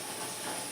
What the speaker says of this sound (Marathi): मस्तपैकी फोडणीचा आवाज सुटला